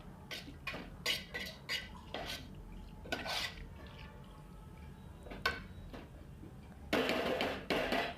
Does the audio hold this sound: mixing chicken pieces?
yes